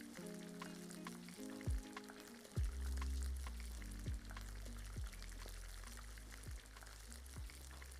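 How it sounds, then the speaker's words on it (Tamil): Onions sautéing over a high flame with turmeric and salt for prawn donne biryani, a steady sizzle with scraping, stirring strokes at a regular pace, close and moderately loud, with no talking. "பிரியாணிக்கு ஹை ஃப்ளேம்ல வச்சே வதக்குங்க"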